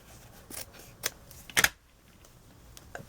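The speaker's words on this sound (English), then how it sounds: "from that scrap piece that we cut off the hat, I'm just going to cut myself" Scissors cut a scrap of craft material for a coffee-creamer-bottle Valentine's gnome, giving a few sharp, separate snips with short pauses between them, close and fairly quiet.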